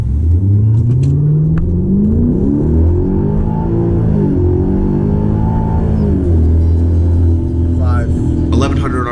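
A 2012 Hyundai Genesis 5.0 R-Spec with about 140,000 miles launches from 1,100 RPM on a chilly day. Its engine roars loud and continuous, climbing in pitch and dipping briefly at a gear change before pulling hard again.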